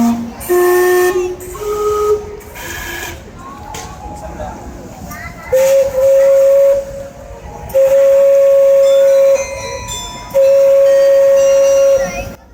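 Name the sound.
steam clock chugging and whistling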